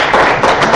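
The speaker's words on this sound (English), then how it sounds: "you need to applaud yourselves for that work" Brief burst of audience clapping at a congressional water briefing in Los Angeles, a dense patter of many hands that stays fairly loud through the short moment with no speech over it.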